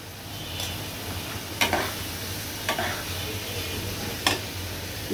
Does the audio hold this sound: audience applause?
no